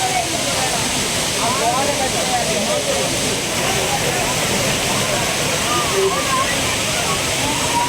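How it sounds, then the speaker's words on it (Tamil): Courtallam waterfall running with heavy flow after continuous rain, a loud, steady roar of falling water with sloshing, with faint voices under it. "தொடர் மழையால் அருவிகளுக்கு நீர்வரத்து அதிகரித்துள்ள நிலையில் ஆனந்தமாக குளித்து மகிழ்கின்றனர்."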